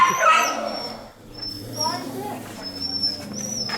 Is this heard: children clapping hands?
no